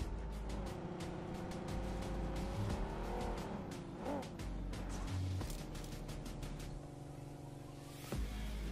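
Car engine revving and tires skidding as a vehicle is driven in the battle royale game PUBG (BGMI), a continuous droning motor with squeals and shifting pitch, no talking.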